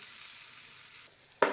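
Hot tempering of cumin, turmeric and curry leaves poured into a fresh coconut chutney: a faint steady sizzle, then a sudden louder hiss as the hot oil hits near the end.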